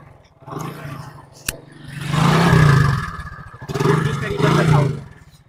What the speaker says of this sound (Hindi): उसका इंजन का साउंड है, वो भी हम साउंड चेक कर लेंगे